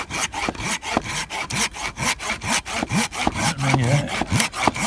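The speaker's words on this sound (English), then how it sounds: "pinewood isn't the hardest thing to cut through, so this actually works fine" A hand saw cutting through thick pinewood on a rainy forest walk, fast regular push-pull strokes, loud and close, each rasping pass clearly separated in a steady rhythm.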